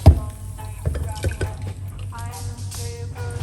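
Green juice poured out of a container, a soft, steady liquid trickle and splash running for a few seconds beneath a person talking.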